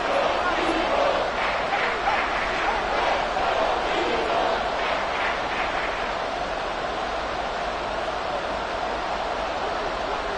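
Stadium crowd in a Madden 24 football game, 49ers at Eagles, roars steadily throughout, a dense, loud wall of cheering with swelling chants, heard beneath a play-by-play voice.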